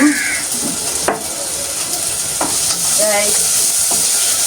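Fenugreek seeds sizzle and crackle in hot oil, with scraping stirs of a utensil against the pan at intervals.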